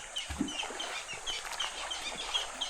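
A black-naped oriole calls repeatedly by a river, its short, faint whistles coming at intervals over steady outdoor background noise.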